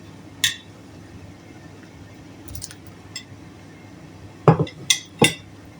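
Pieces of chicken go into hot masala in a pan for an Afghani chicken dish, a few sharp metallic clinks and soft wet plops spaced out over quiet background, close by.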